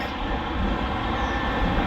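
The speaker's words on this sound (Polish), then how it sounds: "jedzie pociąg Intercity Wyczółkowski!" An InterCity passenger train passes near a level crossing at Żerniki beneath a motorway, a steady loud broadband rumble and rolling roar filling the whole stretch without pause.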